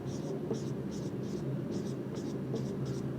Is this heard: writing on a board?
yes